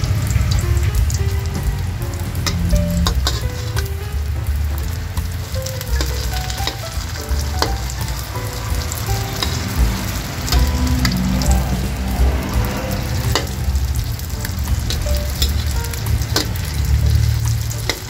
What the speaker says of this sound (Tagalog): Kaya ito guys yung ating ipiprito ngayon.